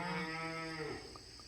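A cow in a livestock barn moos in a long, drawn-out low call that fades, followed by a couple of faint short chirps in the background, in a rural yard garden.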